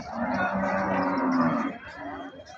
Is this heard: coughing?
no